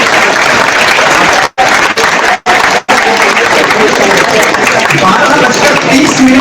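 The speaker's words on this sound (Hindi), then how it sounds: "आप लोग तालियां बजा रहे हैं" Audience applause at a Hindi poetry and lecture gathering, a dense, steady wash of clapping from a large seated crowd that holds loud throughout, broken by a few brief gaps.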